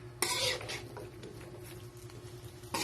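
Chop suey vegetables, including green beans, stirred in a pan with scraping, clinking utensil strokes and soft patter, moderately close, with a louder burst at the start and again at the end.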